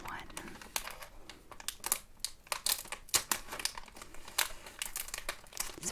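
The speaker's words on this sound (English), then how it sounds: "It's very crinkly plastic." A crinkly plastic Lego bag is cut open and handled, producing irregular sharp crackles and rustles close to the microphone, with occasional soft speech between them.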